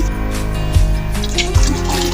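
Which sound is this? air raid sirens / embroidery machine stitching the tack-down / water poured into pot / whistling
water poured into pot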